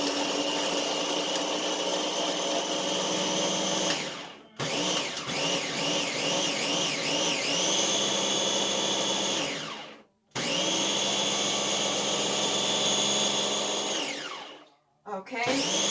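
A kitchen blender or food processor grinds bread into fine panko crumbs. It roars loud and steady in three long bursts, with brief gaps between them.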